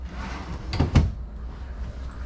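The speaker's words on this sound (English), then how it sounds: "Now you have these pull-out drawers." Pull-out cabinet drawers in a trailer slide and bump, a short close rumble ending in a soft knock, then quiet room tone.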